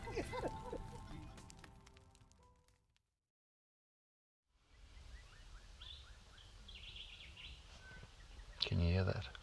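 Birds chirp and call in the Maputaland bush after a brief silence, a scatter of short, thin calls at moderate distance over rustling background, with a louder burst near the end.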